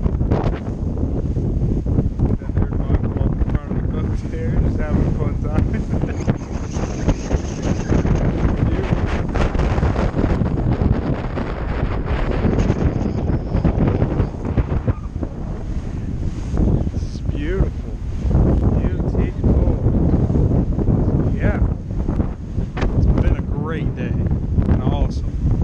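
Strong wind on a sailboat buffets the microphone, a loud continuous roar and rumble with gusty surges throughout, likely with water noise beneath.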